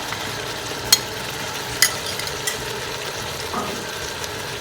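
Spices, chilli and ingredients stirred in a pan while cooking gyros: a steady low sizzle with a few sharp scraping clicks of the spoon against the pan, alone and fairly quiet.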